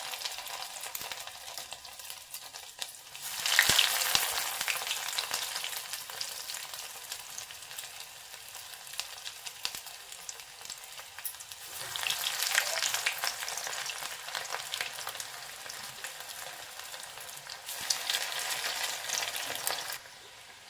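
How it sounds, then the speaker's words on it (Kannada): Breadcrumb-coated fish vada rolls deep-fry in hot oil, a steady bubbling hiss that swells into louder surges of sizzling several times as pieces go in or are turned. "ಸೊ ನಾನು ಡೀಪ್ ಫ್ರೈನೇ ಮಾಡ್ತಾಯಿದ್ದೀನಿ, ತವಾ ಫ್ರೈ ಆ ಥರ ಮಾಡ್ತಿಲ್ಲ."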